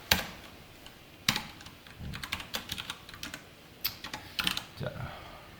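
Quiet, close typing on a computer keyboard while writing Python code, irregular clusters of light key clicks with short pauses between words.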